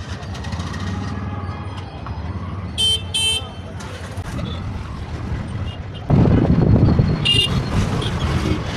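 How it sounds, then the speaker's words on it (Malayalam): An Uber auto rickshaw pulls up in busy Bangalore traffic. A steady engine rumble and wind buffeting swell louder near the end, with a few short horn beeps. "നമ്മുടെ യൂബർ ഓട്ടോ വന്നിട്ടുണ്ട്"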